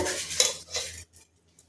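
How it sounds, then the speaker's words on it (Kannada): Soaked rice pours into a metal pot for a mushroom-fenugreek pulao, a short rattling, clattering rush with scraping against the pot, close by. It stops abruptly and leaves near silence. "ಇವಾಗ ಅಕ್ಕಿ ಹಾಕೊಳ್ಳೋಣ"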